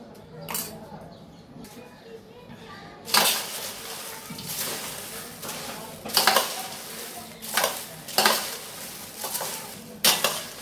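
Spices stirred into hot corn poha chivda in a pan: a quiet scraping start, then repeated loud bursts of spoon-against-pan stirring and rustling flakes, roughly every second or two.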